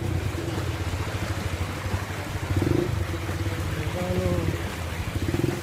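Boat motor engine running with a low, steady pulsing drone that stays close and even throughout, briefly swelling in the middle.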